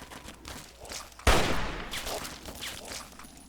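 A burst of gunfire in the video game Fallout 3 in a fight between other characters, a sudden loud blast followed by a rattle of shots that fades out over the next couple of seconds.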